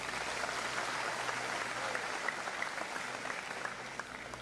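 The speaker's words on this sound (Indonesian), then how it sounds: "tepuk tangan dulu." A congregation at a testimony gathering claps along, a soft, even wash of applause that holds steadily throughout, heard from some distance.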